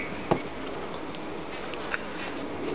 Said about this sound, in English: Honeybees fighting with a bumblebee in the corner